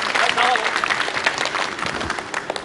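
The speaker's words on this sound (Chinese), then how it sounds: "来，掌声欢迎一下。" An audience at a Chinese song gala claps to welcome a guest onto the stage, a loud burst of applause that tapers off while a host speaks over it.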